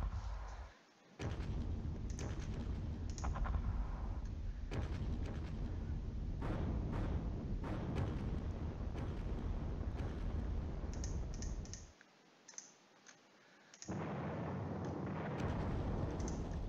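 Bombardment explosions in the Panzer Battles wargame roll out as a dense, rumbling barrage of booms and crackling blasts, cutting off abruptly, then resuming after a short silence alongside faint keyboard clicks.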